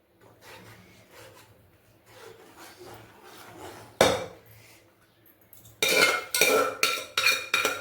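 A spoon scrapes and stirs thick rice payasam in a pot with rasping strokes: soft and steady at first, then loud, close scrapes in quick repeated bursts toward the end.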